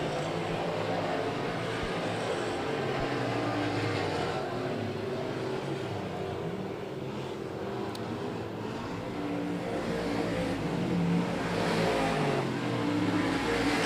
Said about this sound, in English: Chase Ellison really running hard in on the Williams car, trying to snag a second place spot down the back straightaway